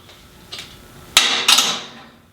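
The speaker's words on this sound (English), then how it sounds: "My inlet here from my compressor goes in this side. I'm going to snug it up with my 14mm wrench." A 14mm wrench snugs a compressor inlet fitting on a Yeswelder Cut-55DS plasma cutter, giving a few sharp metallic clicks and clinks close by, with two louder ringing contacts near the end.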